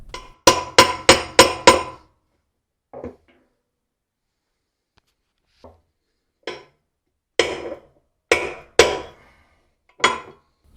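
Sharp metallic hammer blows on a spinner wrench locking the tub of a Whirlpool Cabrio washer: a quick burst of five strikes, then scattered single and paired hits with pauses between, close and loud.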